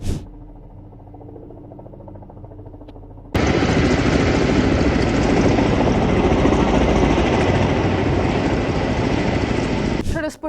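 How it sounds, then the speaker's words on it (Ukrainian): Emergency service (state rescue) helicopter working at fires after a night of strikes, its rotor and engine roar loud and steady, jumping closer and louder partway through and holding as a dense continuous drone. "До ліквідації пожеж залучили навіть гелікоптери ДСНС."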